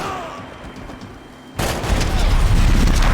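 Gunfire in Max Payne 3 erupts suddenly after a quiet stretch, a loud close burst of shots and booming impacts that keeps going to the end.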